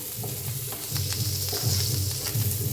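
Onion sautés with turmeric in a pan, sizzling steadily while a spoon stirs and scrapes in short repeated strokes, close and moderately loud with no talking.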